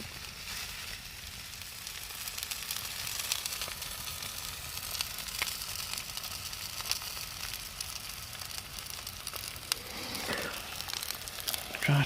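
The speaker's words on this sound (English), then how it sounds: "There, I'm sizzling. There seems to be plenty of oil coming out there." Food sizzles and crackles in oil over a camp stove on a solo wild camp in the Haigh Hall Plantations woodland, a steady close hiss running throughout with no one talking.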